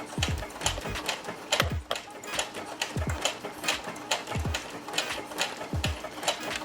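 An embroidery sewing machine stitches a decorative design, its needle hammering in a fast, steady mechanical rhythm with repeated clunks as it moves, close by and with no talking.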